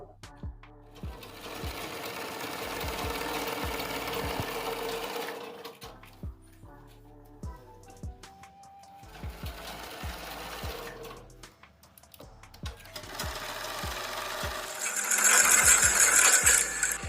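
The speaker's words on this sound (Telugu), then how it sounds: "ఇంకా కటింగ్ అయితే అయిపోయిందంటే ఇంకా నెక్స్ట్ దీని స్టిచ్చింగ్ ప్రాసెస్ చూద్దాం" A sewing machine stitching a blouse, running in steady whirring spells with pauses between, soft thumps at the start and stops, and a voice talking faintly now and then.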